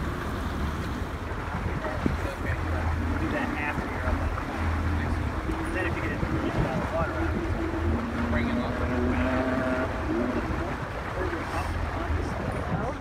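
A motorboat cruises on Florida water, its engine droning steadily under rushing wind and splashing water, heard from on board at moderate level.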